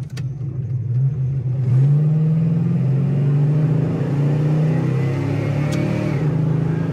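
A 1974 Dodge Charger with a 360 engine and pistol grip shifter accelerates hard, its deep exhaust note climbing steadily in pitch as the revs build, loud and close throughout with no talking over it.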